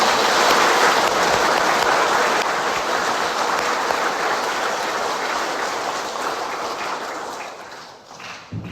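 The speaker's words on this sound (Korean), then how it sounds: "박수 부탁드립니다." A Catholic congregation applauds during an Easter Vigil Mass in a Korean church, a loud, sustained wash of many hands clapping that holds steady, then gradually thins and fades toward the end, with no talking over it.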